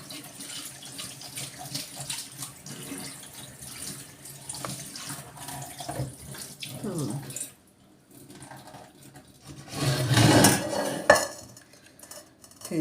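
Running tap water pours steadily into a sink with light clinks and swishing as grain is rinsed by hand, then the stream briefly surges louder.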